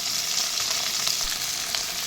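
Onion and curry leaves fry in oil in a pan for a Kongu-style chicken kulambu, giving a dense, steady sizzle close by with faint stirring scrapes.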